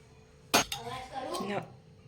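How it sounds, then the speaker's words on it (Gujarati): A metal spatula pokes and scrapes through a millet flatbread (bajra rotla) on a pan, making a sharp clink followed by a short scraping rattle, close and fairly quiet. "હવે જો હવે તાવેતાના મદદથી આપણે આ રીતે કાણું પાડીશું"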